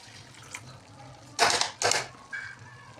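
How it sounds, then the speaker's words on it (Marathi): A little water poured into cooking masala paste in a pan for anda masala, two short splashing bursts in quick succession followed by faint sizzling, with no talk. "त्यामध्ये थोडं पाणी टाकून घेऊया"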